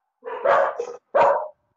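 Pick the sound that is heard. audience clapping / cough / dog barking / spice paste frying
dog barking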